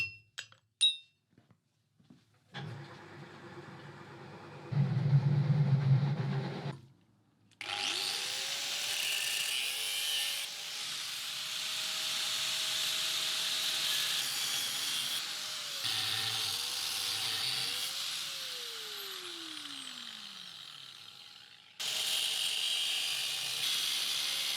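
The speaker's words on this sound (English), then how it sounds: "just cut the shape out with an angle grinder" An angle grinder whines up to speed and cuts steadily for many seconds, its pitch dipping and sliding under load, after some brief knocks and handling noises.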